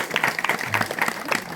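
A gathering at a de-addiction centre event claps briefly to welcome a guest. The clapping is short and moderately loud, with scattered distinct hand claps.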